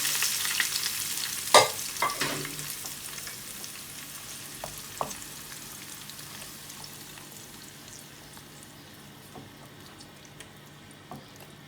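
Chicken frying in hot oil in a karahi for chicken karahi, with a few sharp scrapes and clatters early on over a sizzle that fades gradually.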